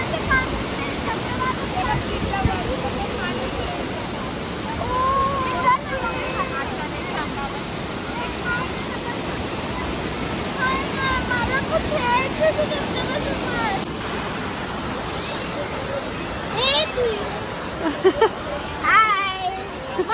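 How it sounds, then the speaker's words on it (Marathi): A small waterfall behind a Shiva temple at a quiet nature picnic spot gives a steady rushing roar throughout, with people talking over it. "इकडे बॅक साईडला मस्त असा छोटासा धबधबा आहे."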